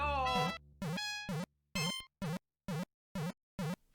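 A spiny shell bounces on music blocks in Mario Maker 2, setting off a string of short, bright, buzzy tonal blips in a fairly regular, quickening rhythm with abrupt gaps between hits.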